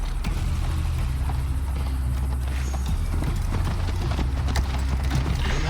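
Horse hoofbeats in Assassin's Creed Valhalla, a steady galloping clip-clop from a ridden mount, continuous and close, over a low rumbling backdrop without speech.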